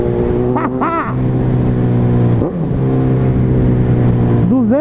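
Honda CB 1000R motorcycle with a GRS exhaust tip and K&N air filter, idling loudly nearby with a steady rumble, punctuated by several sharp throttle blips that rise and fall in pitch.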